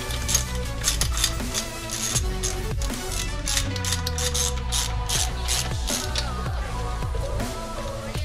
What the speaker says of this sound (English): I'm just getting all the bolts as far as I can, all the way down, before I really start to get things tightened.